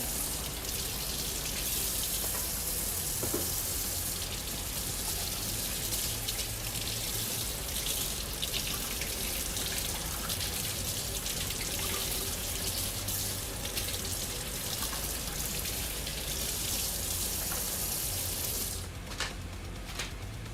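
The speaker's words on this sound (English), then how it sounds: "I'm gonna wash my hands right now from the habanero cutting." Hands being washed under a running kitchen tap to rinse off habanero pepper oil, a steady broadband splash of water that continues without pause for about twenty seconds, with no talking.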